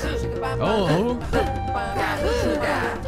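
Barb, a monster in the video game My Singing Monsters, sings warbling, sliding vocal-like melodic phrases over a steady game backing track, fairly loud, with a brief spoken exclamation.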